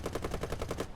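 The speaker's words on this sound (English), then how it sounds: "this is how it sound for a 50 cal." A .50 caliber machine gun firing in War Thunder, a rapid, even burst of about nine heavy shots over one second, fairly quiet and heard alone.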